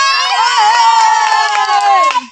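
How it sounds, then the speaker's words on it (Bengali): A crowd cheers and shouts in a sustained, ringing chorus for two players who won a game of catching money with their mouths, holding loud and steady for about two seconds before cutting off. "দিয়া বিশ্বাস আর কৃষ্ণা মালাকারের জন্য একটা জোরে হাততালি"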